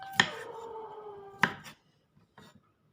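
A knife chops vegetables on a board in two sharp, close strikes that ring briefly, followed by a couple of softer taps; no talking.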